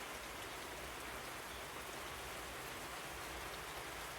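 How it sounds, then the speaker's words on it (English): Steady rain falls beside a back porch on a cloudy, cold day in West Virginia, a dense, even hiss of drops on surfaces that holds unbroken throughout with no voices. "it's lovely to see the diamond rain"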